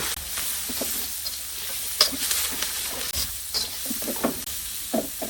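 A cup of onions sizzling and crackling in hot oil in the pan for crab bhuna, a loud continuous hiss with irregular pops and stirring scrapes, close and alone with no talk.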